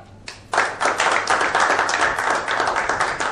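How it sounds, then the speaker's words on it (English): An audience claps on the set of a TV serial as a performer comes to the stage. Dense, continuous applause begins after a short quiet moment and stays loud and steady to the end. "everybody clap"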